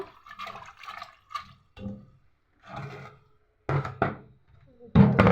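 Fresh spinach leaves swished and rinsed in water, heard as short, separate bursts of splashing and trickling with quiet pauses between them, close and moderately loud.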